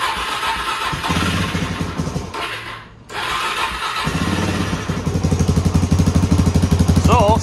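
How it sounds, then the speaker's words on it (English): A Suzuki DRZ 400 motorcycle with its choke on cranks and fires up, then settles into a loud, close, steady single-cylinder putter, with a brief lull just before the engine catches. "Does fire up with a choke on."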